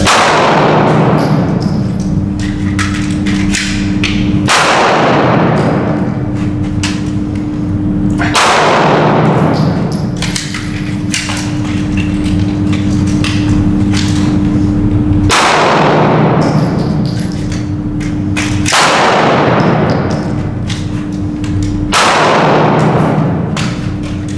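Pistol shots in a combat shooting drill with a magazine change ring out as about six very loud, sharp, close bangs spaced several seconds apart, each with a long reverberant decay.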